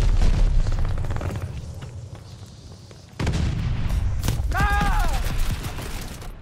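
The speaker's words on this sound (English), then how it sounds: "Allies calling a mortar barrage." Heavy booming impacts and rumbling blasts from a mortar barrage in Call of Duty: Vanguard on the Tuscan map, with a sharp hit midway, continuous low rumble and a brief voice over the noise.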